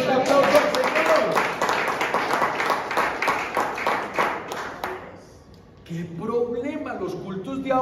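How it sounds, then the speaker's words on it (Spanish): A church congregation claps together in a fast, even rhythm for several seconds before the clapping dies away and a voice begins speaking. "¡Denle un aplauso al Señor!"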